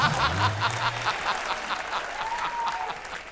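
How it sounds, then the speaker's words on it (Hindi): Studio audience on a family comedy game show applauds in a sustained, moderately loud wash of clapping, with a brief tonal sound at the start and faint laughter mixed in. "लालची आदमी के लिए जोरदार तालियां"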